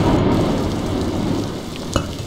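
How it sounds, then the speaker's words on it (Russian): Thunderstorm in the video game Block Story: a steady roar of rain and low rumbling thunder runs throughout, with a sharp crack near the end, loud and close. "Гроза гремит."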